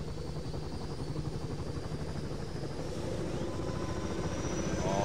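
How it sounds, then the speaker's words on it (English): A helicopter in the video game ArmA III runs loud and steady throughout, its rotor chop pulsing rapidly under a constant engine whine that builds slightly toward the end. "there is me inside this helicopter. It might be a little bit loud, right?"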